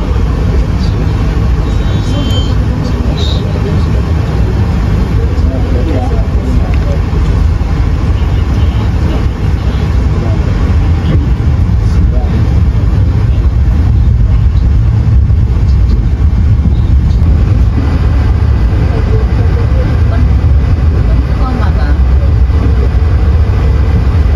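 KA Jayabaya passenger train pulling out of Pasar Senen station in Jakarta at night on its run to Malang, a steady loud low rumble of wheels and carriage noise throughout, with faint voices now and then.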